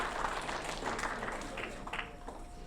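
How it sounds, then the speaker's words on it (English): Audience at the UK Rubik's Cube Championship 3x3 final giving a modest round of applause, fairly quiet and steady, with some talking over it. "Let's have a big round of applause for Stephen and Ronald."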